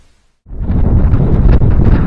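After a brief silence, a loud, steady rush of cold wind on a mountain ridge blasts across the microphone with rumbling low gusts, continuing to the end.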